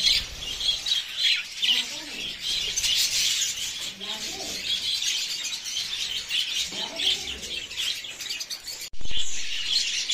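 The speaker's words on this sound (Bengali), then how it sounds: "দেখতেই পাচ্ছ কেমন খাচ্ছে পাখিরা।" Budgerigars eating soaked wheat chirp and twitter constantly in a busy, high chorus close by, with faint squawks mixed in and a sudden louder burst near the end.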